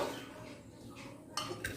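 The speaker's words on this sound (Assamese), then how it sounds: "এই কুকাৰটোত এতিয়া মই আনাৰসৰ বাকলিখিনি দি দিম" Pineapple peels dropped into a pressure cooker for a fish curry, giving a couple of brief metallic clinks and knocks near the end over a quiet kitchen background.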